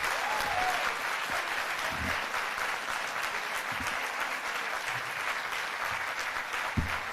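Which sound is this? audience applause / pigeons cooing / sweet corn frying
audience applause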